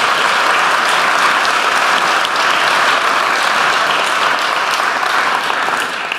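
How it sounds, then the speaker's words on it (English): Sustained, loud, dense applause from an event audience for the sponsors at an art conference in Florence, steady clapping throughout with no voices standing out. "So a round of applause for our sponsors"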